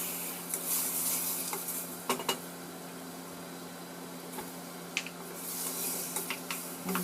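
Sliced chicken and garlic fry in oil in a pan with a steady, close sizzle, broken by occasional scrapes and clinks of stirring.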